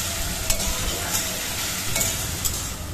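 Ginger and chilli paste with nigella seeds frying in a pan, a dense even sizzle and hiss under occasional light scrapes of a stirring spoon, close and unbroken for a few seconds.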